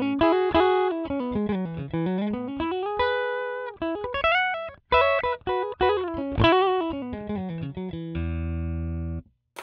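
An electric guitar runs through the US Princess amp model on a Line 6 Helix, playing a clear, moderately loud melodic line of sliding, bending notes with some distortion and chorus, then ending on a sustained low chord, with no talking.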